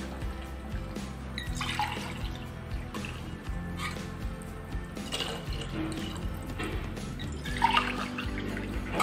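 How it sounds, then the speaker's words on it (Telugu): Water is poured into a pot for semolina khichdi, a soft trickling and splashing at low level, with faint kitchen clatter. "వాటర్ పోస్తున్నాను"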